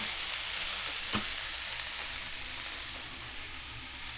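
Lobsters cook in a hot pan with a steady, even sizzle and crackle, moderately close, plus one brief sharp tap partway through and no talking.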